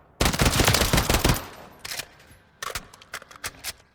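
An AN-23 assault rifle fires in Call of Duty: Modern Warfare III, a loud rapid burst up front followed by two shorter bursts after brief pauses, crisp and close with no talking.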